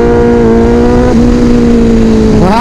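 Motorcycle engine revving hard on a road, a loud steady buzzing drone that climbs sharply in pitch near the end as the throttle opens.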